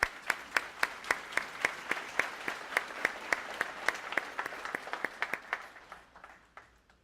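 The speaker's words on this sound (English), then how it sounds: "Let me give them a round of applause," Audience applause at a fall nursing pinning ceremony: sharp, evenly spaced claps with a steady rhythm that thin out and fade near the end, with no talk over them.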